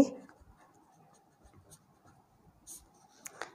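A pen scratches across paper while a Sanskrit explanation is written out in a quiet room, with soft intermittent strokes and a few brighter scratches near the end.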